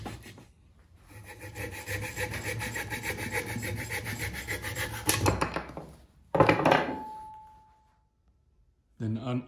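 Hand tool rasping and cutting wood while a hen mallard carving is roughed out, close rhythmic scraping strokes for several seconds, then a brief sharper cut after a pause and a final burst.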